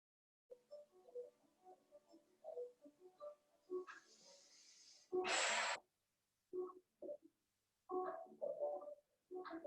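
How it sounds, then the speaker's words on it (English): Deep, audible breaths drawn in and released during a slow beginner Pilates workout with a resistance band, a loud breathy inhale-exhale burst standing out among quieter soft sounds in a calm room. "Just take a couple deep breaths."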